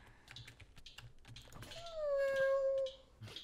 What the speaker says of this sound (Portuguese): E esse barulho aí? É o gatinho.